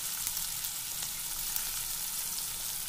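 Crushed garlic hits hot oil in a pan of frying chili and tomato, giving a steady, dense sizzle and crackle that stays loud and even throughout, with no talking.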